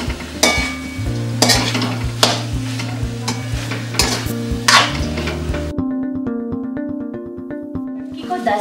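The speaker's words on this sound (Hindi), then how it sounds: "मटकी को हम 8 से 10 मिनट तक इस मिक्सचर में भून लेंगे" Moth beans (matki) fry in a masala mixture for a Kolhapuri misal, a steady close sizzle broken by repeated scraping strokes of a spoon against the pan, with music playing underneath.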